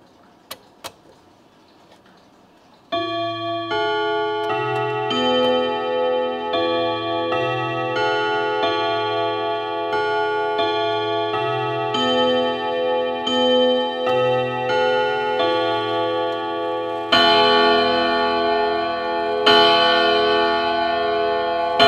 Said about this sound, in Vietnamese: Chuông đánh như tiếng đàn và thậm chí thì cái độ ngân vẫn còn đang ngân các bác nhá